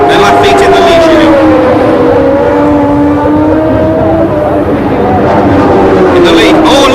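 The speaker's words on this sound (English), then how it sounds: "The Ligier trying to go through, brakes locked up, and he's done it." Ligier Formula 1 car at the Long Beach street race braking hard and locking its brakes while overtaking, a loud sustained engine whine sweeping down and back up in pitch, with commentary running over it throughout.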